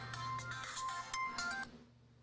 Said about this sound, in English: your phone's ringing already